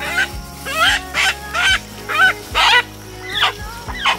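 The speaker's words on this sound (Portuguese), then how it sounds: "vamos lá nas galinhas" Chickens, including a bantam hen, squawk and cackle loudly in repeated bursts as they are caught and handled, about eight sharp calls in quick succession close by.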